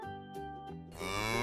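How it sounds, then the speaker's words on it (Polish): A cow moos, a low droning call rising in strength toward the end, with steady background music beneath. "Zgadza się, to jest krowa."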